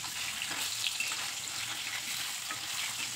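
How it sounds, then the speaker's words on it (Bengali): Hilsa fish pieces frying in hot oil in a pan on a medium gas flame, a steady, bright sizzle crackling without pause, close by. "একটু লবণ দিয়ে মাছগুলো ভেজে নেব। বেশি ভাজবো না ইলিশ মাছ"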